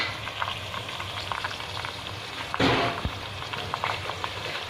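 Chicken, about a kilo, frying in a pot, a dense close sizzle with a brief louder surge of hissing partway through, no talking.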